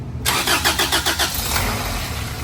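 A Honda B18C engine swapped into an Acura Integra LS fires for the first time: a brief cranking stutter of rapid, loud pulses that catches and settles into a steady, close idle with no talk.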